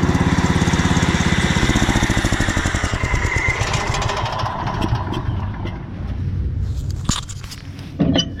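A lawn mower churns loudly while cutting across a patch of fill ground, and a loose part rattles in a fast, steady clatter over the engine drone before the noise eases and sputters near the end.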